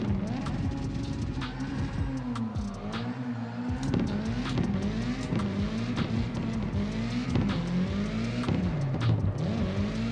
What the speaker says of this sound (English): But even with the slight echo, the car sounds amazing